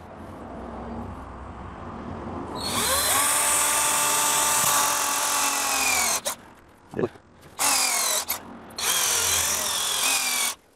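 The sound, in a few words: drilling a pilot hole in wood with a 5 mm bit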